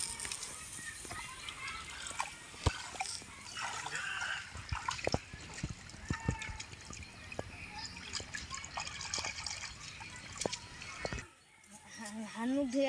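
Someone washes their hands at a village pond, with water splashing, dripping and trickling in uneven bursts, close but soft, under faint outdoor background noise.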